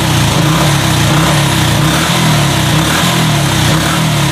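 A Honda Revo motorcycle engine, a fault-prone bike from another workshop, runs steadily at a rough, buzzing mid-pitch drone for the whole stretch, loud and close with no talk.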